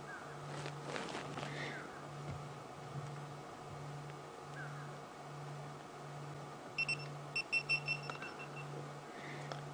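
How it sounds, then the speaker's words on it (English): A soft, steady electronic beep repeats at an even pace against a constant background hum, with a few brighter chirps near the end. "So have you heard that little beep, beep, beep, beep, beep?"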